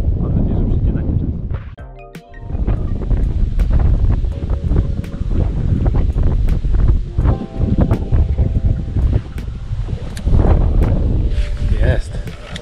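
Steady light autumn wind blows outdoors while fishing in November, with gusty, broadband rushing across the whole stretch, with occasional clicks and shuffles and muffled handling noise over it.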